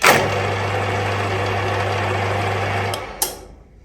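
A mill drill fitted with a hole saw runs at a steady, loud mechanical hum with a constant low tone for about three seconds, then winds down with a brief clatter.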